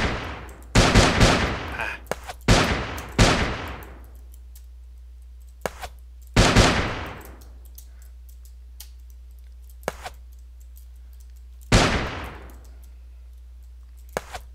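Gunfire in the Shattered Haven video game, several sharp shots in short bursts and single blasts, each ringing out and decaying, separated by quiet gaps with small clicks; a voice briefly exclaims.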